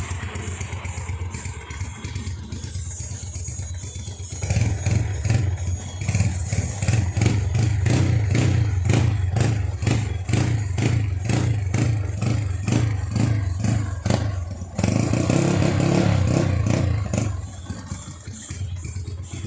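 A motorcycle engine revs up from idle into a run of repeated throttle blips, loud and close with a steady pulsing rhythm, dropping back briefly before a final burst of revving.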